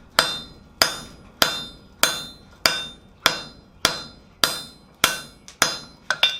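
A hammer forging the sides of a chain maker's stake anvil rings out in loud, evenly spaced metallic blows, about one every half second, each with a short ringing decay, ending in a quick double strike; no talking.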